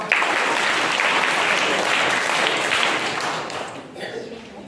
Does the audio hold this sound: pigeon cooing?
no